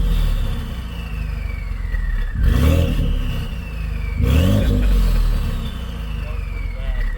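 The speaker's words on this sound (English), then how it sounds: "Definitely hear the turbo more." Ford F150 EcoBoost with a custom 4-inch stainless steel exhaust, two strong revs rising over a steady idle, with turbo whistle clearly audible, recorded close up.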